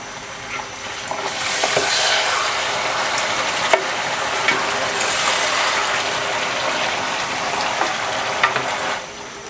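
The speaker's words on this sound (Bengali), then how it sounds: "মাছটাকে 5 থেকে 7 মিনিট আমি কষিয়ে নেব।" A large fish head fries under a lid in a pan, giving a steady, loud sizzle with bubbling and crackle throughout, and a few sharp ticks rise above it.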